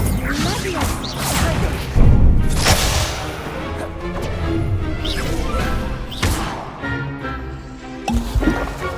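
Spell casting in the Hogwarts Legacy video game, with a Leviosa charm among a quick flurry of duelling spells: repeated whooshing bursts and sharp crashing impacts over a busy, layered game soundscape, loud and close.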